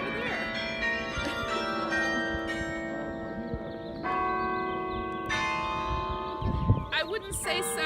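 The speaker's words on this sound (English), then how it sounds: "I just like the way the bells sound" Church bells ring out in overlapping, sustained tones, with new strikes every second or so and a faint voice near the end.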